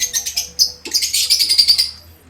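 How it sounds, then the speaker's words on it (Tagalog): Pigeons chirp and tweet close by in a loft in quick, bright bursts, several calls overlapping in a lively chatter. "Siyempre, ito yung mga ibon niya."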